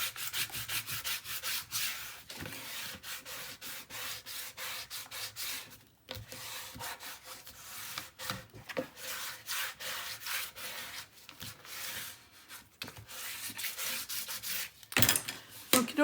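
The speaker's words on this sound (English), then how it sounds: "now we're going to burnish" Steady rubbing and sanding-like friction of a bone folder burnishing adhesive tape onto a paper mini album, continuous close strokes with brief pauses, no talking.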